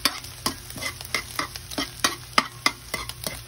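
Rice for chaw fan being stir-fried in a pan, with rhythmic scraping and tossing strokes about every third of a second over a steady close sizzle and no talking.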